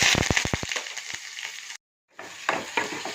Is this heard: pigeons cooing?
no